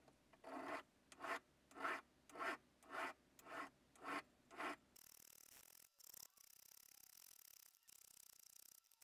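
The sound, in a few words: filing a 999 silver coin ring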